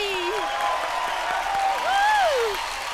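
A studio audience on a comedy stage show claps for a guest's entrance, a steady clapping wash with whoops and sliding tones rising over it.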